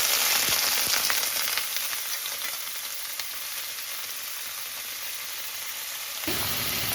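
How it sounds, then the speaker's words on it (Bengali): Moringa drumsticks fry in mustard oil in a wok, giving a steady, dense sizzle with a few faint clicks near the start. The level stays even throughout, with a slight step louder near the end and no talking. "এখন প্রথমে আমি সজনে ডাঁটাটা একটু ভেজে নিচ্ছি।"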